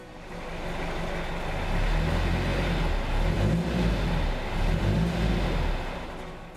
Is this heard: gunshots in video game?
no